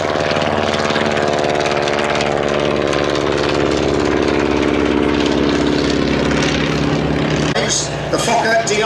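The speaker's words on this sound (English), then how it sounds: "Second aircraft, you notice this has a different exhaust note." A WWI replica aircraft, such as a Fokker Dr.I triplane, flies past with a loud, continuous droning piston engine and propeller note, steady and close, with a shift near the end.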